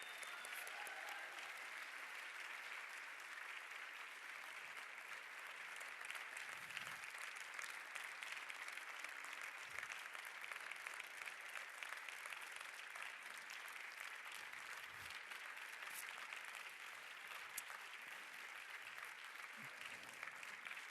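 A long standing ovation at the 2026 LUX Audience Award ceremony for European film nominees and the winner: sustained, even applause from a big crowd, moderately distant and steady throughout.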